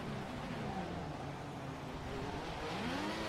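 Race cars in a Formula-style racing video game streaming past, a faint continuous engine whine and rushing blur with pitch sweeping up and down as cars pass.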